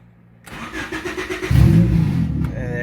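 A Honda D15b7 turbo engine cranks and catches, then settles into a steady running rumble that thickens and grows louder, close by with no talking.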